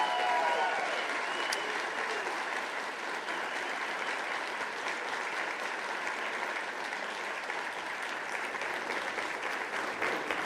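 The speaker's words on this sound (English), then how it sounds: "Let's go and have one more round of applause for all those candidates on stage here tonight." An audience at a televised political debate applauds the candidates on stage, a sustained, steady roar of clapping from a large crowd, moderately loud and even throughout.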